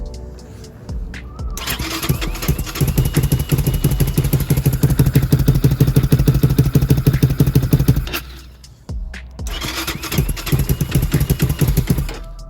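A Lifan KP Mini 300 4V ZS175FMN motorcycle engine fires up from cold on choke and settles into a loud, steady idle with rapid regular pulses, briefly dipping and cutting out near the end before catching and running again.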